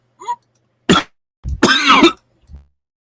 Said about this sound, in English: I tried to mute that cough fit